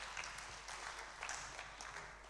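Faint, distant applause from a congregation at a Kikuyu church choir day service, a steady soft patter of clapping with gentle swells.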